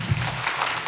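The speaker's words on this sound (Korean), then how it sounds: "박수 부탁드립니다" A crowd claps steadily at a public debate forum in Changwon, as guest panelists are introduced. The applause is a brief, continuous, moderately loud patter with no voices over it.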